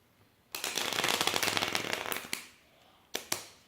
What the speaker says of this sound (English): I'm gonna try the riffle shuffle